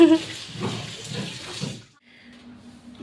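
Water splashes and washes over a floor during house cleaning, a close, uneven burst of gushing for under two seconds before it drops to near quiet, with a low hum and faint sounds continuing.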